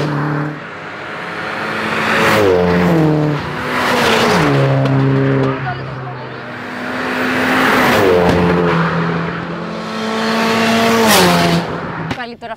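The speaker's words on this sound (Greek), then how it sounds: "Πάλι τώρα αυτοκίνητο προκαλεί." A car, a Toyota Supra, revs hard and its tires skid through repeated rising and falling engine sweeps, loud and close, with a crowd's voices under the roar.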